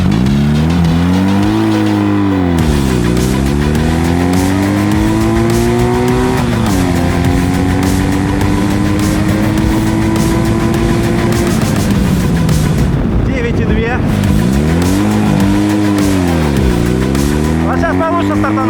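A Ural motorcycle accelerates hard from a standing start uphill, its engine loud and close as it revs up through several rising gear pulls with brief drops at each shift, a voice talking over the roar.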